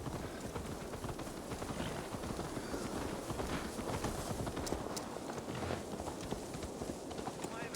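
Horse hooves clip-clopping in Assassin's Creed Valhalla, a dense steady stream of trotting hoofbeats over loud rustling ambience that persists throughout the clip.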